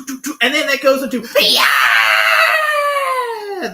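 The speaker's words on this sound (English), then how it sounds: "the greatest rock scream of all time." A long, strained rock scream from a classic rock album recording: a sustained, piercing high cry rising out of earlier shouted singing and holding loud for about two seconds before dropping away.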